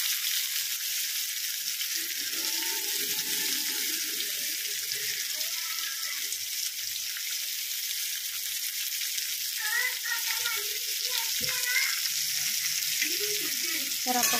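Onion sautés in a pan with curry leaves and garlic for a potato bhaji: a steady, even sizzle runs throughout, with faint scraping and a few soft tonal sounds in the background.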